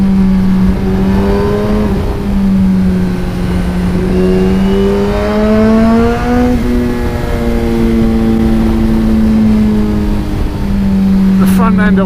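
A Suzuki GSX-R1000R motorcycle fitted with a full titanium Akrapovic exhaust drones along at a steady pace, its loud engine note rising and dipping slightly, while a voice talks over it.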